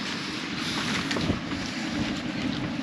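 Steady wind rushing around a moored sailboat in the Cyclades, with a broad continuous roar buffeting the microphone and faint sloshing water beneath, no voices.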